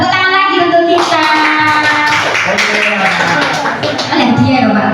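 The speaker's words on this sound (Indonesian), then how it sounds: "Tepuk tangan lagi untuk kita." An audience of teachers claps together in a lively burst of applause that fills the room, with voices speaking over the clapping throughout.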